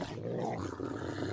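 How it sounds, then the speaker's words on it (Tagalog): Several street dogs growl and snarl in a cartoon, a low, rough, continuous rumble with harsher rising snarls, close and fairly loud. "Mga pre, ang daming aso sa daan."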